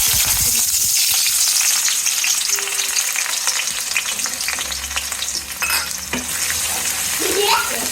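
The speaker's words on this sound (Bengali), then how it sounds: "তেল গরম হয়ে গেছে, নতুন পেঁয়াজ দিয়ে রান্না করবো" Fresh new-season onions hit hot oil in a cooking pot while preparing a shrimp curry, producing a strong, continuous sizzle with occasional stirring scrapes and clinks close by.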